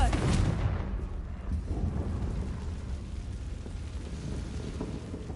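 Confringo blast spell cast in a Harry Potter PS4 game: a deep rumbling explosion that booms at the start and then rolls on as a long, dense low roar with crackling debris throughout.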